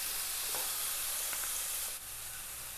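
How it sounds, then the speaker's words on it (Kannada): Chopped tomato frying with ginger garlic paste in a pan, giving a steady broadband sizzle with faint stirring scrapes near the start and middle, then easing slightly toward the end. "ಅಷ್ಟೊತ್ತಿಗೆ ನಾನೀಗ 1 ಕಟ್ ಮಾಡಿದ ಟೊಮೆಟೊವನ್ನು ಕೂಡ ಹಾಕ್ತಾ ಇದ್ದೇನೆ. ಒಮ್ಮೆ ಫ್ರೈ ಮಾಡಿಕೊಳ್ಳ."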